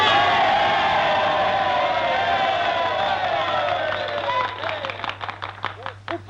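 Crowd at a political gathering applauding and cheering enthusiastically, a sustained roar of clapping that thins into scattered distinct claps near the end.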